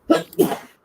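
A single short sneeze, close and sharp, with a quick inhale-like burst before the main release.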